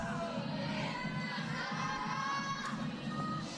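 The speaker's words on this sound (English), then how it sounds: "You can hear the cheers from here." Crowd cheering at an outdoor ice climbing World Cup lead final in Cheongsong, Korea, a distant sustained roar of many voices in the cold, continuous throughout.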